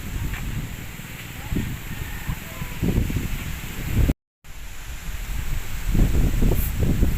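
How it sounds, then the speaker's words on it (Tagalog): Gusty wind on Sentinella Hill in Bangui, Ilocos Norte, buffeting the microphone in uneven rumbling waves, with a brief dropout of silence partway through; no talking. "medyo mahangin ha"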